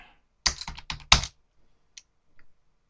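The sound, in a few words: typing a password on a computer keyboard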